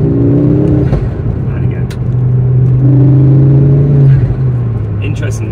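Ford Focus RS Mk2 with Mountune MP350 tune and de-res exhaust, revving hard in rising and falling sweeps heard from inside the cabin, someone speaking briefly over it.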